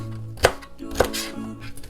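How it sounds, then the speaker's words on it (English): A knife chops celery on a cutting board, two distinct firm thunks about half a second apart, close and moderately loud, followed by softer handling. "Knife to cut the celery."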